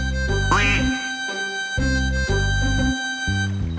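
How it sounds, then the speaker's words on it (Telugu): A cartoon mallard duck gives a series of buzzy, evenly spaced quacks, each a short nasal burst, loud and close, with a steady high tone running beneath. "ఈ పక్షిని మాలెట్ బాతు అంటారు."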